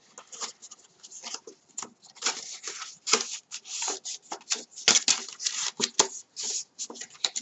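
Fingers crease folds along a strip for a handmade beach-and-market basket, producing busy, close rubbing and scratchy pressing strokes in irregular rapid bursts, with short gaps and no speech.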